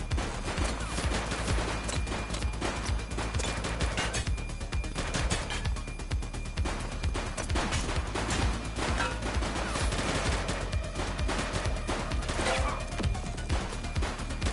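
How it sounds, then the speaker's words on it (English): Sustained, dense gunfire rattles without pause during a police shootout with an armed suspect in the video game The Precinct, with rapid overlapping shots and bursts forming a loud, continuous fusillade. "He's shooting!"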